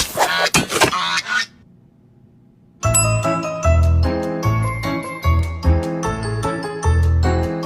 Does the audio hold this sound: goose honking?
yes